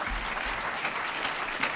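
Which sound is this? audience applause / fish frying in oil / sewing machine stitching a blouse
audience applause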